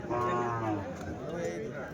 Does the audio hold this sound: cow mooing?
yes